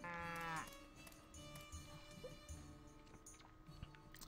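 A single lowing moo from a cow in the Story of Seasons farming game rises loud at the start, then gives way to soft game ambience and light clicks.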